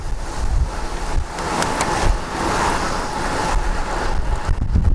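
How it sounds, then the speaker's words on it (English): Strong wind buffets the microphone while riding a bicycle along a road, a steady loud roar with gusty swells throughout and no talking. "Wind in your hair."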